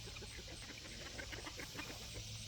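Chickens cluck in a farmyard alongside ducks and guinea fowl, a soft, steady run of short clucks over a constant background hum, fairly distant and faint.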